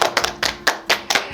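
Scattered hand claps of congratulation from a small group of people, arriving as several quick bursts over a little over a second with no talk.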